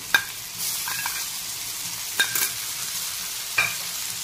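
A paste of ground wet green peas fries and sizzles steadily in a pan, with a few sharp scrapes of stirring at intervals and no voices.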